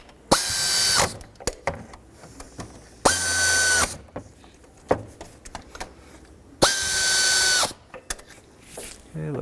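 A powered ratchet tightens the nuts holding the knock sensor on a 2003-2009 Toyota 4Runner engine: three close, loud whirring bursts of under a second each, with soft mechanical clicks and handling noises between them.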